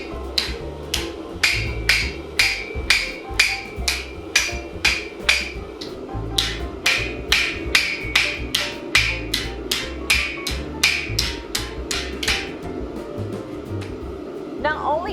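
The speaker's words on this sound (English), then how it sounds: "Not only does hammering on top of these creases flatten them down, it also upsets the material and thickens it out." A blacksmith hammers iron sleigh bell petals, striking about thirty sharp, ringing metallic blows in a steady, even rhythm, close and loud, with a low hum of the forge or shop underneath.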